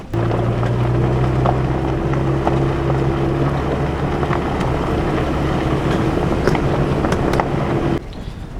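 Overland pickup truck rumbling along a rough, badly rutted road in the Pacific Northwest backcountry, a loud steady engine drone with wind noise and jolting thumps, dropping off abruptly near the end.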